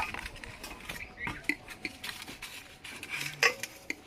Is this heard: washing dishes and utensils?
yes